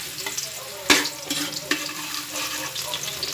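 Garlic sautéing in a pan with a steady crackling sizzle, broken by a sharp clatter and some stirring scrapes.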